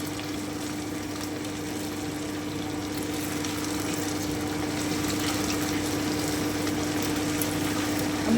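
Prawns fry in a pan for chilli prawn, giving a steady, even hiss and sizzle at moderate loudness throughout, with no talking.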